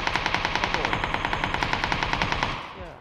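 Rapid automatic gunfire in a video game, a fast, even burst of close, loud shots that runs for over two seconds before tailing off.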